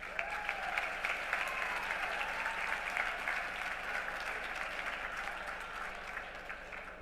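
Audience at a youth awards night gives a big round of applause for the judges, steady dense clapping holding at an even level for several seconds with no talk over it.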